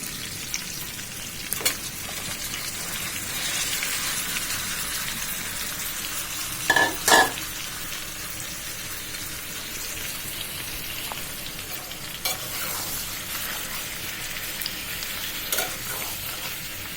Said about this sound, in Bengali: এবার আমি মশলা মেখে রাখা মাছগুলো দিয়ে দিচ্ছি